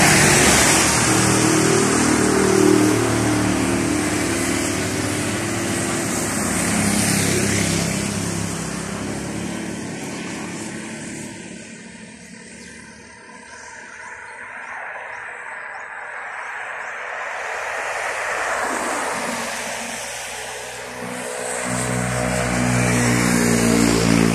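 Flood water outside a house on a rainy Christmas Day with cars passing through it, a steady wash of rushing water and engine noise that swells, dips midway and rises again, with faint insect chirps.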